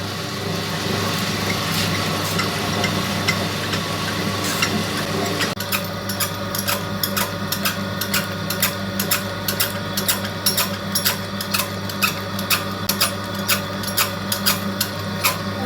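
An electric wet grinder churns soaked rice into murukku batter, a steady mechanical whir that turns to rapid, regular clattering ticks partway through, close and continuous with no talk.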